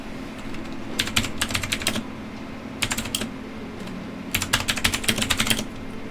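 Bursts of fast clicky typing on a new computer keyboard, three separate flurries of keystrokes over a steady low hum, close and fairly crisp.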